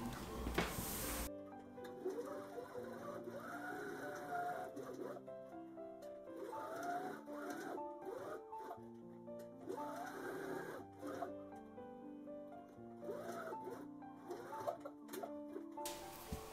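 A sewing machine runs steadily, stitching felt onto main fabric pieces for a glasses case, its rapid mechanical whir and ticking continuing for a long stretch with short pauses, close and clear.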